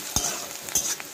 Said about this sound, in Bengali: এবার এর মধ্যে দিয়ে দেবো পেঁয়াজ কুচি। এগুলো ভালো করে নেড়ে হালকা বাদামি কালার করে নেব।